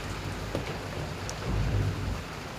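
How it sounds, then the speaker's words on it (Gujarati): Night rain falling steadily around a home with thunder, a constant wash of rainfall and low rumbles swelling in the middle, no voices. "એટલે 12 વાગ્યાનો વરસાદ ચાલુ થઈ ગયો ગાજવીજ સાથે."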